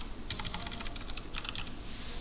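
Fingers tap out a quick burst of keystrokes on a computer keyboard, then a short pause and another run of clicks, crisp and close with no talking.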